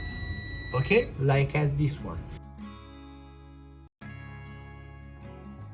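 Someone talks briefly, then a multimeter's continuity-test buzzer sounds close up while testing a relay, a steady electronic tone that drops out for a split second and resumes continuously.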